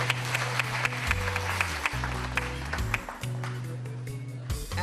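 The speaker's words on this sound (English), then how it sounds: "Please give them a round of applause." An audience at an awards ceremony claps steadily in a sustained round of applause while low music plays softly beneath.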